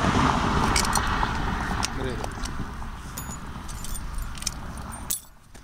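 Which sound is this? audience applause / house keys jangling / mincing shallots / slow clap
house keys jangling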